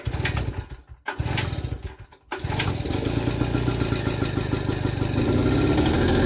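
A flood-damaged generator is pull-started outdoors: a couple of rough pulls and sputters, then the engine catches and settles into a steady, loud running drone that grows slightly stronger toward the end.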